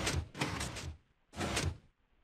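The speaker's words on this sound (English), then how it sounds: "And now this door is open, this door is closed, and this door's open." Minecraft doors toggle open and closed, giving loud, hollow block-door clunks in three bursts: two close together, then one more after a short pause.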